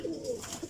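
Teddy pigeons coo softly in a brief, low murmur over a hissy, noisy background, with a faint higher chirp near the end.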